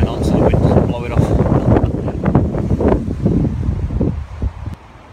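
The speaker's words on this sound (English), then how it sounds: "the wind's ripping this shelter apart" Strong gusting wind buffets a debris shelter built from pine boughs at a solo bushcraft camp, with loud, uneven microphone rumble and rustling foliage throughout that eases slightly near the end.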